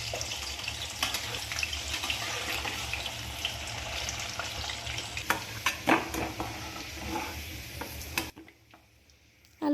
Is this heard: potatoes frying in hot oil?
yes